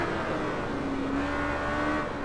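A motorcycle in a racing video game takes the fast 130R corner at Suzuka, its engine holding a steady, loud drone with a rising whine throughout, continuous and close.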